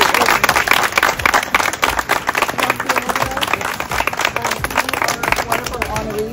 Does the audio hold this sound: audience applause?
yes